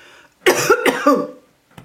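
A woman coughs several times in a short, choking fit after choking on her own saliva, close and fairly loud, then a faint catch of breath.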